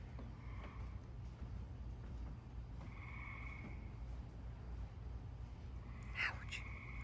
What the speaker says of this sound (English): Listen to the frogs, right?